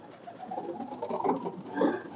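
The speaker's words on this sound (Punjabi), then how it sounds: "ਇਹ ਖੁੱਡੇ 'ਚ ਕੱਲੀਆਂ ਕਬੂਤਰੀਆਂ ਛੱਡੀਆਂ ਹੋਈਆਂ ਨੇ ਆਪਣੀਆਂ" Female pigeons kept alone in a loft coop coo softly and continuously, a low murmuring close by with no talk.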